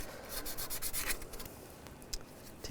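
Emery cloth or light sandpaper rubbed over a thermostat housing on a 2001-2006 BMW 325xi, a steady close scratchy abrasion in short back-and-forth strokes, fairly quiet with no talk.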